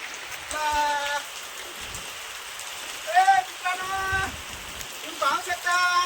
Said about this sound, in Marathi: मस्त पाऊस आज आलाय.